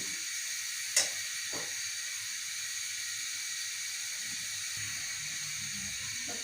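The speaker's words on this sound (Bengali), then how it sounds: "পটলটা ভাজা হয়ে গেছে, আমি এখন নামিয়ে নেব।" Pointed gourd fries in a pan with a steady, quiet hiss of sizzling oil, broken early by a single sharp click.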